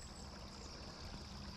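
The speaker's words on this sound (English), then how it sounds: "there's some moving water in here" Stream water flows over big flat rocks, a close, continuous rushing trickle that stays at an even level throughout.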